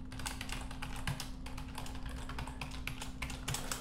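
Close typing on a computer keyboard while entering code, quick irregular key clicks with short pauses over a steady low hum, no talking.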